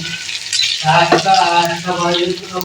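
Fish roe sizzling and crackling in hot oil in a pan, with a steady close frying hiss and occasional stirring clinks throughout.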